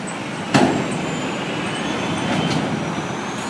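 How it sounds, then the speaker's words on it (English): Heavy trucks pass along a city street in downtown Baltimore traffic, a steady broadband rumble with a sharp burst near the start and a swelling pass later on, no voices. "Wait for all the trucks to go by."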